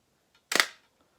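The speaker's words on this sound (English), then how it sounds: "that slap you hear is not the shutter, it's the mirror" Mirror slap of a Bronica SQ-A medium format camera, a single sharp mechanical clack with a quick rattling decay, close and isolated in an otherwise quiet room.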